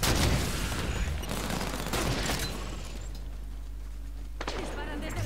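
Gunfire in Halo 5 co-op play, rapid shots crackling under Spanish-speaking voices, strongest early and thinning out later into quieter background combat noise.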